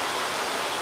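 Steady rain pouring down outdoors, a dense continuous hiss with no breaks and no voices over it.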